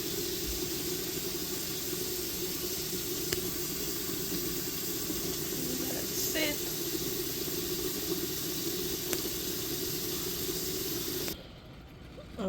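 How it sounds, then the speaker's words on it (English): Steady hiss of water running from a tap into a pot of stewing chicken, constant and fairly close for most of the stretch, then cutting off abruptly near the end. "I'm going to take a little more water in it."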